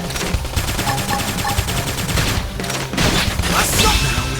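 Rapid bursts of gunfire from the video game Xenoblade Chronicles X, a loud continuous barrage of shots layered over dense battle music and effects, with no speech.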